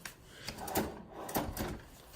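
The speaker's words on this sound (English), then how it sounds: "Ooh, drawers are self-closed." A self-closing kitchen drawer in a condo unit glides shut, with a couple of soft, close wooden slides and thumps as it settles quietly.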